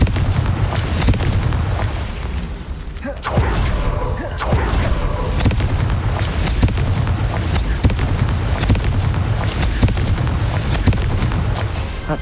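Confringo fire spells explode in Hogwarts Legacy, deep booming blasts with a heavy low rumble that repeat through a loud, continuous stretch of game noise with sharp cracks scattered throughout.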